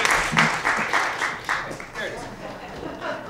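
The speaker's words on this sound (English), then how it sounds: "So please give a round of applause for Brandon Baruch and Corwin Evans." A workshop audience claps for the presenters in a brief burst of applause that fades quickly as a voice begins speaking over it.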